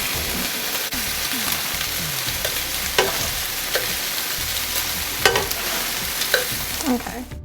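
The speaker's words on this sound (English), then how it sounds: "we're going ahead and flipping the meatballs once again" Meatballs frying in a pan sizzle steadily and loudly while being flipped, with scattered clicks and scrapes of the turner against the pan throughout.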